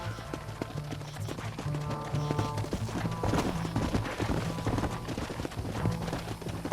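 Galloping horse hooves in Red Dead Redemption drum a fast, steady, loud rhythm over the game's music, with no talking.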